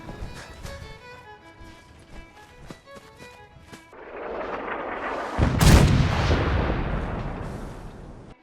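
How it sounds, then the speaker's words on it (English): In the video game Fallout 4, an artillery barrage called in by a smoke grenade opens with sharp rhythmic distant thumps, then swells into a loud rumbling roar of explosions that builds and lingers. "Arnold threw his artillery smoke grenade"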